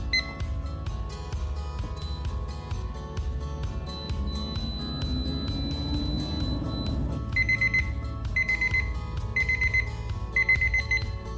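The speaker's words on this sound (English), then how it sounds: "we'll talk about it as soon as the timer goes off" Air fryer timer alarm ringing during a cinnamon-sugar bread bites cook, a steady run of rapid beeps repeating for several seconds, moderately loud and alone with no talking.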